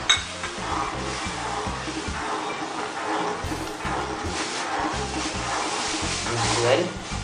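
Cashew nut paste is stirred in a pan: a utensil scrapes and clinks against the metal amid a low sizzle, steady and close throughout.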